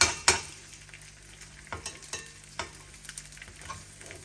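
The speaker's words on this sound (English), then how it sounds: "I'm going to carry on frying that egg" Soft sizzling and spattering in a pan, with scattered clicks and taps of a utensil over a low steady background; no talking.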